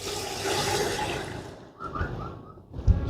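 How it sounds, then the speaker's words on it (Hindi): Water pouring from a bucket into a large cooking pot for chicken chana pulao, a steady broadband rush for over a second that then thins into lighter splashes and trickles with a thump near the end. "हमने पानी सारा ऐड कर दिया है इसमें"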